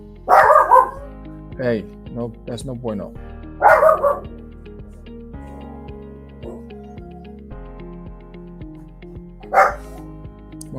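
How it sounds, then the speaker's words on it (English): Dogs in a home bark in several loud, close bursts, some short and sharp, others more drawn out, between quieter stretches, with someone speaking over the noise. "now you're gonna hear my dogs acting."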